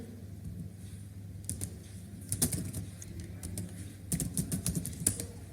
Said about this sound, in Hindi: तो यहाँ मैं कुछ डेटा एंटर करती हूँ।